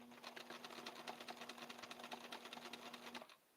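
A Bernina sewing machine stitches a fabric tester piece, a rapid steady mechanical chatter with a low motor hum, running for about three seconds before stopping.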